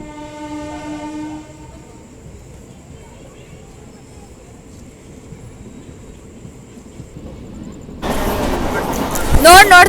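A train horn sounds as the train departs Channapatna station, a sustained tonal blast that cuts off early, followed by quiet rumble and then a loud burst of broadband rail noise and clatter near the end.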